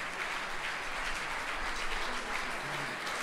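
A seated audience in a hall applauds while a speaker walks up from the back of the room, a continuous even patter of many hands, soft and somewhat distant, with no talking.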